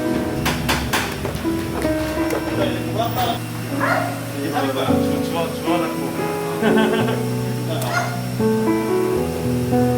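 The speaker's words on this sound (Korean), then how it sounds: "강아지들 신난다." Excited puppies bark and yip in rapid, irregular bursts close by, with higher whimpers mixed in and people's voices audible alongside.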